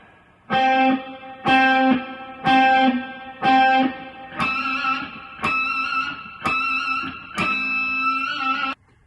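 Distorted electric guitar plays eight picked notes, four plain ones followed by four brighter, squealing pinch harmonics, each ringing out briefly.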